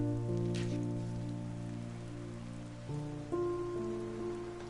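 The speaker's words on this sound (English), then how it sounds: "Oh man, now it's raining at the beach." Rain falls on a beach in the video game Bound, a steady soft patter under sustained tonal game music, with no talking.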